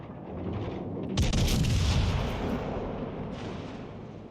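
A high-caliber naval shell firing and striking in the game World of Warships Legends, a sudden loud boom that rolls into a long rumbling roar and fades slowly.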